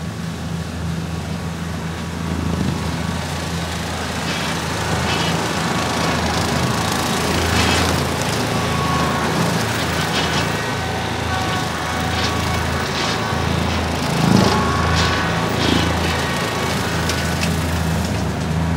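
A tractor running a 10-foot flexwing and a 6-foot rotary cutter through tall heavy grass and brush, with a steady loud engine drone and blades chopping and crackling through thick growth throughout.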